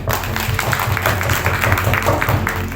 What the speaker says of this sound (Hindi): जोर से एक बार ताली बजाएंगे।